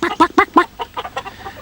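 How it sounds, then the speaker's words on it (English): Broody hens on their nest boxes squawk in alarm, a quick run of about eight loud, close clucks in an uneven burst with no talk. "As soon as they saw the Raggy Dolls, they squawked in alarm."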